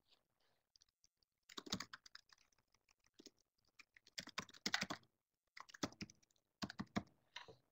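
Keystrokes on a computer keyboard come in quiet, close bursts of quick clicks separated by short pauses, with no voices.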